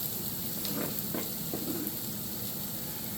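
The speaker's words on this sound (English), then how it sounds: "So we'll take all of our peppers, our onions, our mushrooms, and we'll just add those right to the pan." Peppers, onions and mushrooms sizzle steadily in hot fat in a pan while making breakfast burritos, a close, continuous frying hiss with a few soft stirring clicks and no talk.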